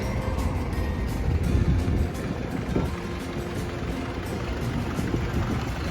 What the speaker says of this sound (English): We've got a big John Deere here, an 8410, very good built tractors.